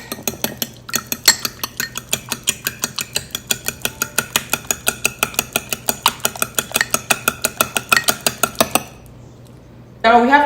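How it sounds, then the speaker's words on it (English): Two eggs are whisked into an egg wash in a bowl, a rapid, even clinking of metal on the bowl that runs close and steady for about nine seconds, stops, and gives way to a brief voice. "Now whisk it."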